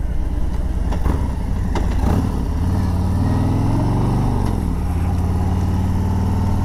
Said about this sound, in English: I'm going to roll on the throttle just a little bit.